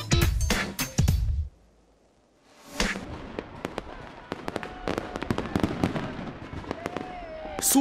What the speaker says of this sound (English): The fireworks were the biggest he had ever seen